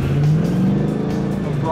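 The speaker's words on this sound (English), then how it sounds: "We're gonna apply throttle, countersteer, catch the drift." A car held in a drift through a turn under balanced throttle and countersteer, engine droning steadily and loud with a harmonic hum throughout, while someone talks over it.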